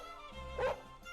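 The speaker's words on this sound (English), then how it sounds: "Suddenly we heard the barking of one of the dogs." A Jack Russell Terrier barks once in a video game, a single short, sharp bark over a steady backdrop of game music.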